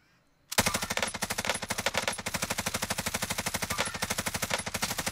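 A long, unbroken burst of machine gun fire in Warzone starts abruptly after a moment of quiet and rattles on at a fast, steady rhythm, loud and close, with no talking over it.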